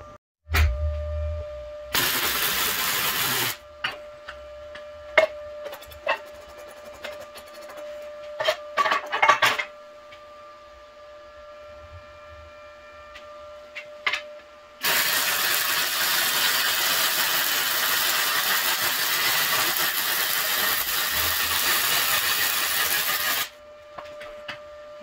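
An ARCCAPTAIN MIG 200 welder lays short bursts of weld, a loud hissing crackle in two main stretches separated by scattered clicks and taps, all close by and without speech.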